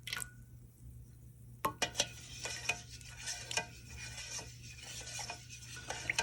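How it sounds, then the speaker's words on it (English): A batch of skunk cabbage pigment mixed with alum is stirred in a container, with a run of sharp scraping clinks followed by steady, close rasping swirls and no talking. "I'm going to stir that around for a bit."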